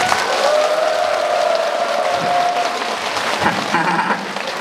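A crowd at an outdoor concert for a village elders' celebration in Gurye, Korea, applauds steadily throughout while a sustained tone from the stage rings over the clapping.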